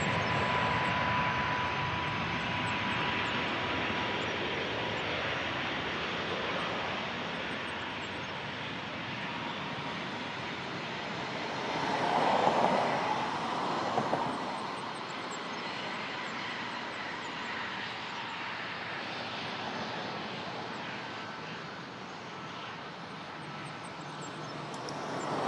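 Jet airliners at Toronto Pearson airport, including a Qatar Boeing 777, roar steadily at a distance in a broad continuous engine rumble that swells briefly midway, with no voices.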